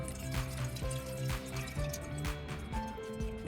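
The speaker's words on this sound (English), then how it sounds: "drain the water" Water drains and trickles from soaked peanuts, with a steady close pouring and dripping sound and intermittent clinks and splatters throughout.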